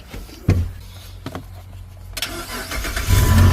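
A Jeep engine cranks with a few sharp starter bursts, then catches and roars to life, the running engine growing loud and steady near the end, close by with no voices.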